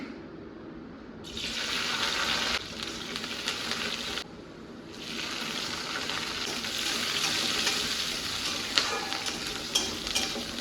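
Chopped garlic fries for a dish of leafy greens, a steady loud sizzle with stirring that cuts out briefly twice before surging back, running continuously with no talk.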